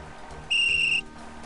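A magic whistle in Simon the Sorcerer gives a single clear, steady high-pitched blast lasting about half a second, sounding over a soft, low musical background.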